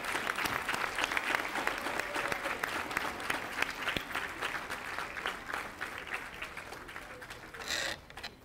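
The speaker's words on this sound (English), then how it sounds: "give a big round of applause to our new 2019 National Honor Society inductees" Sustained applause from an audience at a school ceremony honoring new 2019 National Honor Society inductees, steady dense clapping throughout that thins out near the end.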